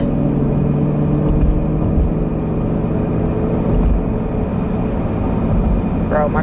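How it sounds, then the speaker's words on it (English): A Toyota car's engine rumbles low and steady while driving, a continuous loud drone with road noise, and a voice speaks briefly near the end. "Bro, my car be rumbling."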